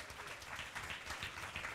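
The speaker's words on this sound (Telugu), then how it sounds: "చప్పట్లు కొట్టి ప్రభుని కనపరుద్దామా" A congregation claps together during a Sunday church worship service, a dense steady patter of many hands filling the room, fairly loud and sustained with no voices standing out.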